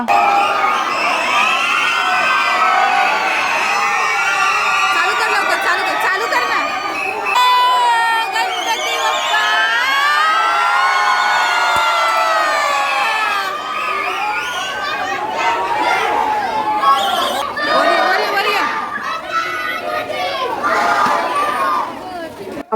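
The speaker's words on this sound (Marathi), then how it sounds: "घराच्या खाली आलो आणि एवढी गर्दी झालेली होती" A large, dense crowd cheers and shouts, with children's voices among them, at a Ganpati immersion procession in Koparkhairane. The roar is loud and steady with overlapping voices throughout, close to the listener.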